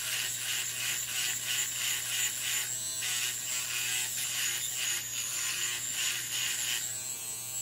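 Finishing Touch Flawless electric facial hair remover buzzing steadily and close up, a continuous motor whine with slight rhythmic pulsing as it passes over facial hair, with no voices.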